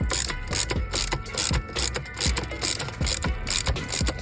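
A ratchet loosens an intercooler bolt on a 6.7 Powerstroke truck, sounding as close, rhythmic bursts of clicking from repeated strokes, about eight pulls in a steady back-and-forth pattern.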